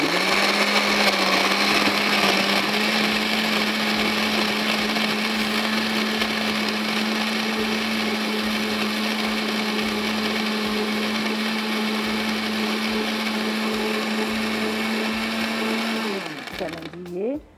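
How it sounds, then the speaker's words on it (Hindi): A blender crushing ice runs loud and steady for about sixteen seconds, a continuous motor whine with grinding churn, then winds down at the end. "थोड़ा सा ब्लेंडर को अच्छी तरह से चलाइएगा ताकि अंदर तक"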